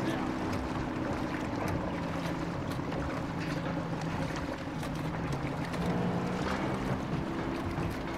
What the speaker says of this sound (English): Oh, I hear a boat.